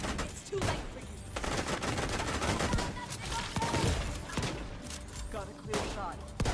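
Sustained gunfire in The Division 2, dense volleys of shots crackling almost continuously with sharper bursts throughout, with voices talking over the fighting.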